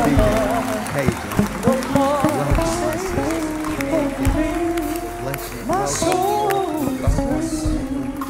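In a Baptist church service, a congregation applauds new members with steady clapping. The applause mixes with organ-like music and voices, running continuously for several seconds.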